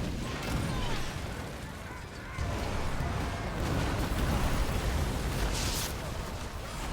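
Burning fort structures explode in the naval combat game Skull and Bones, a dense, rumbling crash of booms and debris that dips briefly then swells again, with a short bright burst near the end.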